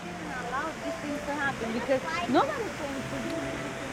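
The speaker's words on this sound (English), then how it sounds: "you can hear the water rushing from this fountain" Broadband water noise from a resort fountain hisses steadily beneath a person talking, with the rush continuous and moderately loud throughout.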